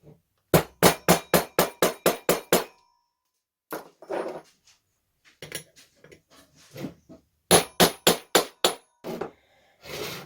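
Sharp metal hammer taps flattening a washer during an MVT ignition and Malossi variator fitting: two bursts of about eight rapid, evenly spaced clanging strikes, separated by a stretch of lighter scattered knocks and handling noise.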